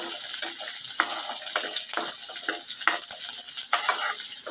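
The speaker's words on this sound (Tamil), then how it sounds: "பூண்டை நல்லா வதக்கிக்கலாம்." Garlic sautés in a pan for garlic chutney, giving a loud, steady, close sizzle with light stirring scrapes throughout and no talking.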